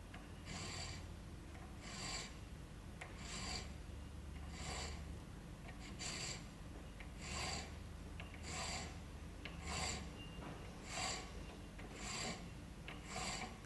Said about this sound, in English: the flats of the top of the thread's actually been filed away now, and you see a flat face starting to form